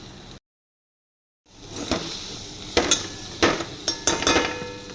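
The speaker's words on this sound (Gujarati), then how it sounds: "આપણો ફ્રાય ભીંડો એડ કરી દીધો છે હવે આને હલાવી નાખશું" Fried okra being stirred in a pan with the gas switched off, giving scattered close scraping and clinking strokes with a light sizzle after a brief silent gap.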